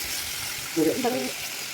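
Chicken frying in a pan as chopped tomatoes go in, giving a steady broadband sizzle with a brief louder burst of hiss and stirring midway.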